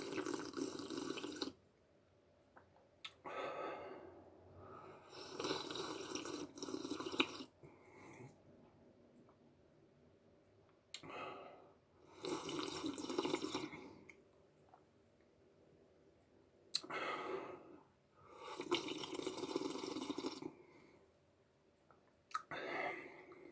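Mineral water being drunk up close in an ASMR recording: repeated separate sessions of slurping, gulping swallows and wet mouth sounds, each lasting a few seconds, separated by near-silent pauses, soft and intimate with no talking.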